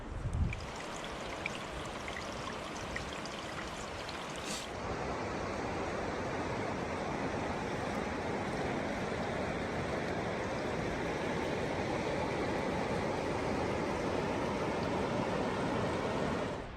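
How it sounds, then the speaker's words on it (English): The Chattooga River flowing beside a trail, heard as a steady, broadband rush of moving water that fills the whole stretch and grows slightly louder and fuller after the opening seconds, with no talking. "we're running parallel to the Chattooga River"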